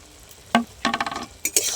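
A spoon stirs a vegetable curry with fried eggplant in a pan, giving a few short scraping and sizzling bursts with quiet pauses between them, close and moderately loud.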